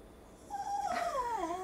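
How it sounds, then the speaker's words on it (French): A dog whines from the background of a home kitchen while food is out, a rising and falling high-pitched whimper that starts partway through and carries on steadily, with no talk over it. "On entend mon chien en arrière parce qu'il y avait de la bouffe."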